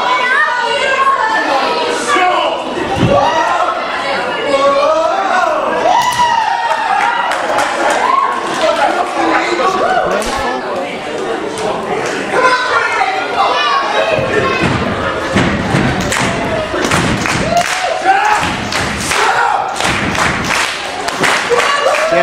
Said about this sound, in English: The crowd certainly loving the JFAB here today.